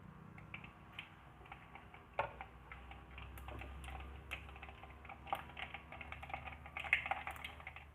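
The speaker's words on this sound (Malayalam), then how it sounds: "കടുക് പൊട്ടി വന്നു." Mustard seeds pop and crackle in hot oil in a thick clay pot while a fish curry with coconut milk is being made, a quiet scatter of small sharp ticks close by.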